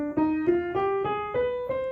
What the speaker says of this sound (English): We also have a minor scale, which sounds like this.